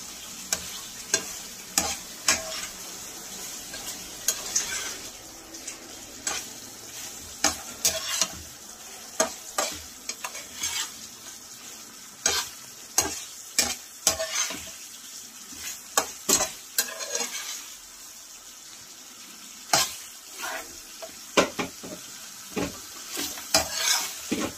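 Mutton being stir-fried in a masala of melted onions and tomatoes for Bengali mutton kosha, with repeated scraping and stirring strokes over a steady sizzle, close and alone.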